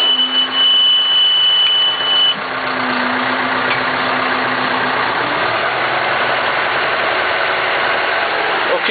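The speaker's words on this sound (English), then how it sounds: "this tractor's now firing up the slurry up that pipe there" A tractor engine runs steadily close by while powering a slurry jetter, a loud continuous idle-like drone with a high whine in the first seconds.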